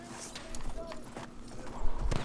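Hooves clatter in quick gallop beats from a horse in the Battlefield 1 video game, with a brief whinny and battle noise around it, fairly faint and mixed.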